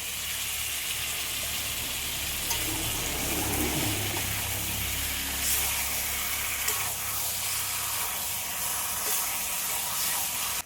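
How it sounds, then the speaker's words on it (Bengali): Chicken and potatoes sauté in a pan, giving a continuous, even frying hiss close by that holds steady throughout, without any words spoken. "সাথে আলুটাও দিয়ে ভালো করে কষে নিন"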